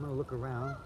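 Geese honking in a quick, loud burst close by, with a voice speaking briefly over the calls.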